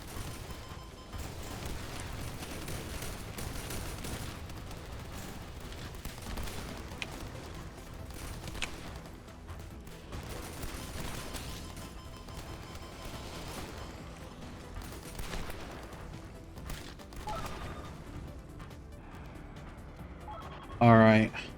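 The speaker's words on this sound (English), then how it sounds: "there's so many missiles coming at me at once" A continuous barrage of missile explosions in the indie video game Gearbits forms a dense, rumbling wall of blasts and crashes that runs without a break. A voice talks over it throughout, and a louder hit lands near the end.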